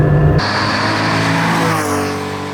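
A modified air-cooled Porsche 911 Carrera engine revs loudly up close, its pitch rising and falling with a raspy mechanical roar, then settling slightly as it fades.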